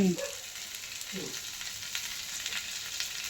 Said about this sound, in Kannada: ಕೆಂಡ ಹಾಕಿ 1 ಟೇಬಲ್ ಸ್ಪೂನ್ ತುಪ್ಪ ಹಾಕ್ತೀನಿ ಮಮ್ಮಿ